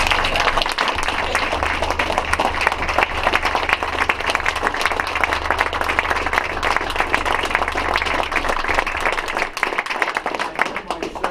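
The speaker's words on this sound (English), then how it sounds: "Let's give them all a round of applause" A council chamber audience gives a sustained round of applause for a high school girls volleyball team that reached the Class A Final Four, dense steady clapping filling the room throughout.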